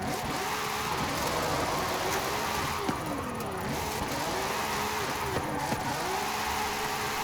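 A race car engine in Forza Horizon 5 hums and revs in waves, pitch rising and dipping repeatedly, with a steady mechanical drone throughout.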